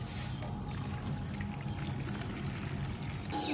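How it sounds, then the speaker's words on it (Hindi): Water pours steadily into a tub being filled for bathing kittens, a continuous close rushing splash that runs the whole time with no talk over it. "पहले ना इसके अंदर गाइस पानी भर लेता हूँ"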